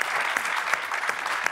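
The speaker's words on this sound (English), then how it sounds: "let's give them a round of applause for that" An audience claps steadily, a dense patter of many hands at moderate volume without cheering.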